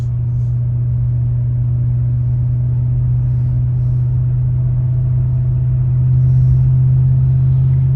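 An old barn-find car with worn shocks driving along a country road, a loud steady low engine drone and road rumble from inside the cabin that swells slightly near the end.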